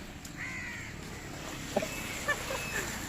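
Crows caw faintly outdoors on a trip near Mullaitivu, with a few short, scattered calls over a low, steady background hum.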